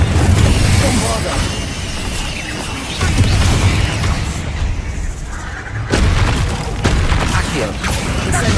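Spell blasts and explosions from Hogwarts Legacy: dense, loud booming bursts with a sharp onset near three and six seconds, layered over a constant rumble of combat effects and music, with no talking.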